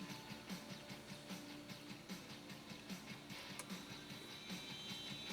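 A Singer 192K sewing machine stitches steadily through two layers of fabric, its needle producing a regular, quick rhythmic clatter with soft thumps repeating evenly over a low motor hum, close and moderately quiet with no talking.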